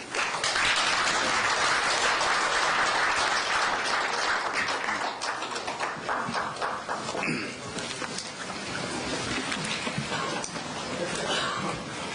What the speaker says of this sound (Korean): 김 대사님을 박수로 맞아주시기 바랍니다